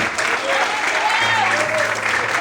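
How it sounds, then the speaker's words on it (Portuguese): Worshippers in a church service applaud the Lord, a continuous bed of clapping from the congregation with scattered voices and exclamations rising through it. "Você pode aplaudir o Senhor?"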